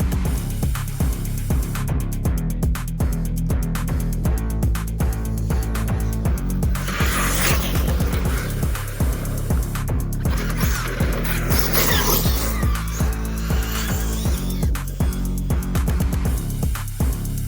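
An Arrma RC car runs at half throttle on a 6800 mAh battery, its electric motor whining steadily under a dense wash of gritty rolling and rattling noise, with sharp ticks and scrapes scattered throughout.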